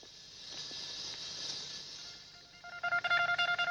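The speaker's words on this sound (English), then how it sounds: "Godfrey Ho did a telephone scene and he's not using a Garfield phone?" A telephone is dialed in a movie phone scene: a soft hiss, then a rapid run of about ten clear touch-tone beeps, evenly spaced and fairly close.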